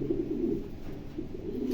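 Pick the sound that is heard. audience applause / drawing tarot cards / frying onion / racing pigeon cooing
racing pigeon cooing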